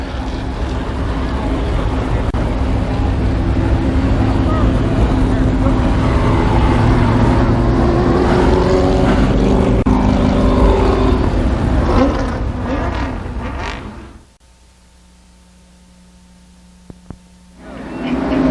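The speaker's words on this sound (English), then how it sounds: "As the field for the first heat race pulls out onto the racetrack." Stock cars rolling out onto a speedway track for a heat race, a loud continuous engine drone with revving tones that drops away abruptly near the end, leaving quiet with a couple of faint clicks.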